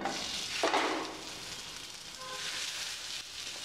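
Bread and potato sandwich frying in oil in a nonstick pan, a continuous soft sizzle and crackle with a brief louder burst, no voices.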